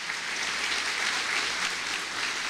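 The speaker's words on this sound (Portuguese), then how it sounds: "Aplauda bem forte assim, tá bom?" A church congregation claps loudly and continuously during a service, a dense, even wash of applause with no voices standing out.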